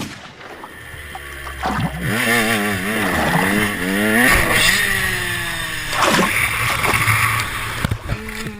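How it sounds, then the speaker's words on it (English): A recording of a motorcycle revving its engine plays back, several rising and falling revs in sequence with a rough, noisy background, fairly loud and close. "then you hear a motorcycle like rev up its engine"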